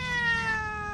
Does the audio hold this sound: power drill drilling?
no